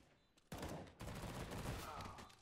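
Rapid gunfire from the video game CS:GO, a loud sustained burst of shots that starts abruptly and holds for about two seconds.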